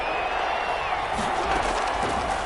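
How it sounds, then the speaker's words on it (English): A stadium crowd in a Madden football video game roars continuously, a loud dense wash of cheering that swells slightly without pause. "That just means this crowd's going to get even louder."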